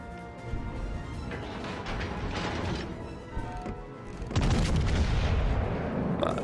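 Naval gunfire from warships in World of Warships: Legends, a dense, rumbling barrage of booming shots that swells with a heavy burst near the end, layered over constant mechanical battle noise with no talking.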